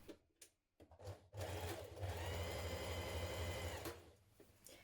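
A sewing machine stitches front and back hem facings together at their short edges, with a steady close whirring hum that runs for about three seconds, starting after a few soft handling noises and then stopping.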